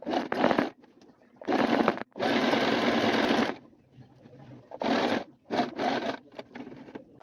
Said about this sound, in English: You guys saw me sewing it on the machine and this is what it ended up being like.